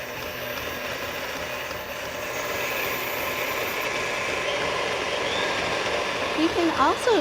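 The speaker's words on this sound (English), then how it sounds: "the stand mixers are ideal for doing this" A stand mixer whips a marshmallow mixture with a steady whirring motor drone that builds slightly in loudness, and a voice starts to speak near the end.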